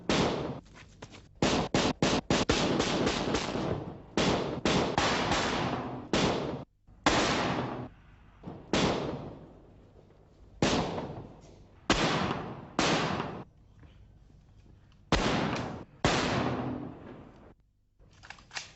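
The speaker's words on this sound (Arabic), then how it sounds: "رصاص." Repeated bursts of close gunfire in rapid volleys, separated by short pauses, loud and sharp throughout.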